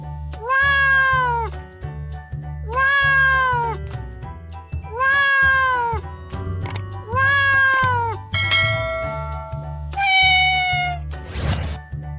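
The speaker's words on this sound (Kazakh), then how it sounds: "Бұл мысық. Мысық мяу, мяу дейді." A domestic cat meows repeatedly in clear, drawn-out calls with short gaps between them, loud and close, over a steady low hum, presented as a farm animal sound for children.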